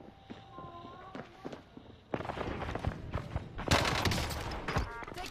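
Gunfire rattles through a Warzone Rebirth match: a few scattered shots and footsteps at first, then a sudden burst of rapid automatic fire that stays loud and close to the end.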